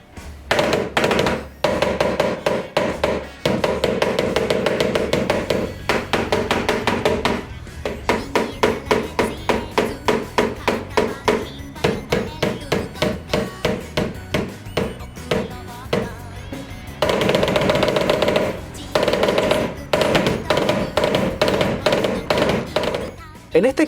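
Rapid, steady drumming on a Hori Tatacon Taiko drum controller, reassembled after a sensitivity mod with its rubber, cables and screws, as sharp thuds and taps come in fast runs and dense rolls with brief pauses.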